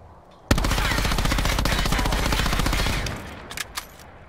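Sustained rapid automatic fire from an SOG gun in a video game with recoil left uncontrolled, a loud continuous burst of about two and a half seconds, then a few scattered quieter shots and clicks.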